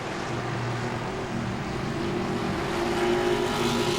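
Grand Stock race cars racing at Langley Speedway, a steady droning engine roar with sustained tonal whine from several cars circling, distant and continuous with no single pass-by, no talking.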